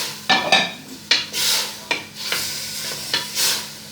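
A spoon scrapes and clinks against a metal pot while zucchini, carrots and herbs are stirred together, giving a series of close knocks and rubbing strokes over a soft sizzle, with no talking.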